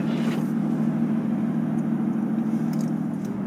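A car engine idles steadily with a low, even hum, close by and unbroken, no voices, in 0-degree cold in London.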